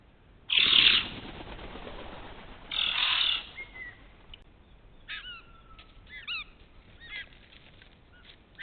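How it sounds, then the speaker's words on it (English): A group of white-winged choughs in Australian bush takes off with two loud bursts of wing flapping, followed by scattered short whistling and piping calls at moderate distance. "Now we have a group of birds known as white-winged choughs."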